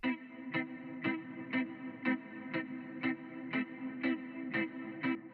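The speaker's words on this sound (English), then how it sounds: "I have this electric guitar piece that's almost like leading the song" A repeated electric guitar note pulses at a steady rhythm about twice a second, each hit echoing in a ping-pong delay, fairly quiet with no voices.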